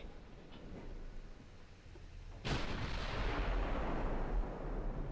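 The battleship Fuso's guns fire in Ultimate Admiral: Dreadnoughts, a single sharp, heavy boom that breaks into a sustained rumbling roar over a constant low background of naval combat noise.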